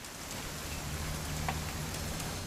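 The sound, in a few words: rain falling in a video game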